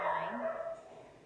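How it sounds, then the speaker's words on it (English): A dog barks in the background, a short burst of a couple of close, fairly loud barks at the start that fade within about a second. "Pardon my dog in the background there."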